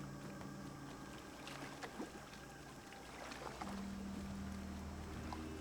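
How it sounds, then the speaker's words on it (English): Ambient marina soundscape in Fallout 4, boats moored on both sides, with a low steady hum, gentle creaks and occasional knocks and clinks over quiet wind, faint and continuous. "there is ambient sound associated with the boats on both sides"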